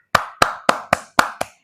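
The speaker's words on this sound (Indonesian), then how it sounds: "Kasih tepuk tangan untuk Mira" Six sharp, evenly spaced claps ring out close and clear in an elementary school classroom, each crisp and separate, with no talk over them.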